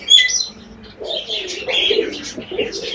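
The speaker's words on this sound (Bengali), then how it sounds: "খুব সুন্দর অস্ট্রেলিয়ান ডাব, ডায়মন্ড ডাব যাকে বলে" Small Australian diamond doves in captivity give soft, mellow coos close by, mixed with higher chirping from other caged birds in a busy, continuous chorus.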